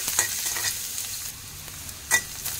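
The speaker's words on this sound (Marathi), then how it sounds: "भाज्या फक्त आपल्याला 2 मिनिटं हाय फ्लेमवर परतून घ्यायच्या" Mixed vegetables stir-fried on high flame for veg lollipops, steady close sizzling under repeated scraping stirs, with a couple of sharper clatters from the spatula.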